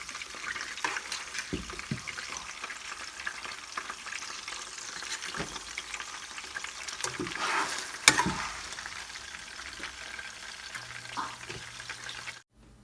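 Fish frying in coconut oil, a faint steady crackle and sizzle with occasional spatters and light clicks, one louder pop partway through, no voices.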